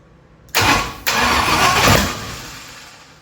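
A 1965 Ford Thunderbird's Ford FE 390 V8 cranks and catches twice in quick succession, then runs loud and rough for a couple of seconds before easing off, close up with no talking.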